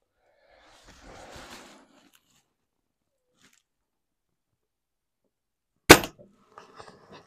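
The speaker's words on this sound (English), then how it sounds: "I feel like I rushed that shot." A single sharp crack from an air rifle firing a JSB pellet, loud and close, followed by faint mechanical clicks and rustling after a stretch of near silence.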